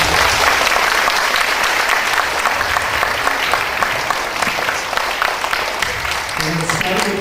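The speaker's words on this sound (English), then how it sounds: "So let's give them a big round of applause." An audience applauds second graders at a school concert with a loud, sustained wave of clapping that fills the room and tapers slightly near the end, where a voice begins to speak.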